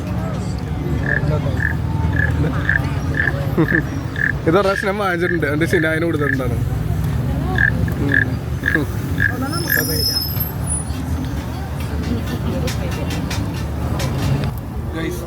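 Steady rhythmic croaking from a frog, repeated about a dozen times at an even pace, under nearby talk and background traffic-like rumble.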